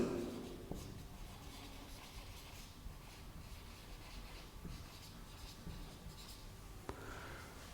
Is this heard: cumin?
no